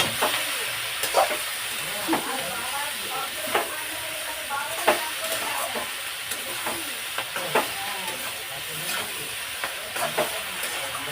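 Curry with fried prawns being sautéed in a pan: a continuous sizzle punctuated by regular scraping strokes of a spatula roughly every second.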